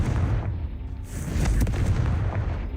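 Explosive blasts from the Confringo fire spell in Hogwarts Legacy, a dense run of deep booming bursts and crackling impacts that rumble loudly throughout, with no talk.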